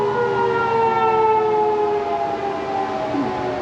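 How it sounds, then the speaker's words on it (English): An outdoor tornado warning siren in Oklahoma sounds during a Saturday afternoon test, a loud steady wail that slowly drops in pitch, heard from outdoors and continuous throughout with no talk. "that was the Sirens. Hope you guys enjoyed hearing a warning test from Oklahoma"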